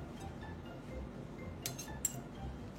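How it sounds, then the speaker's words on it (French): A spoon or fork mixing olive oil and lemon taps and clinks lightly against a dish, a few faint metallic chinks, the brightest near the end, over a quiet background. "pour que ton huile d'olive et ton citron se mélangent, tu prends une cuillère, une fourchette."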